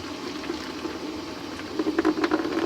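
Water poured and sloshed while rinsing silver concentrate in a refining process, a faint steady trickle that grows into louder splashing bursts near the end, with no talking.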